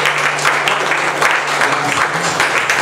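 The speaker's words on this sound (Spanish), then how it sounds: "Dale un aplauso," Loud, continuous congregation applause during a church service, many hands clapping densely and close by, with a low hum underneath and faint voices mixed in.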